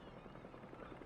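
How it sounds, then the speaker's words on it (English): Helicopter rotor chop from the video game Spider-Man 2, a steady, dense rumbling thrum with faint rhythmic pulsing, fairly quiet and continuous throughout. "We need specifically a helicopter"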